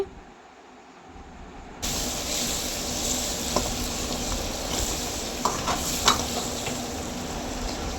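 Fried chicken pieces tossed and stirred in a hot pan at a family dhaba, starting with a quieter hiss that jumps to a loud, steady sizzle with occasional clanks of the spoon, close up and without talk.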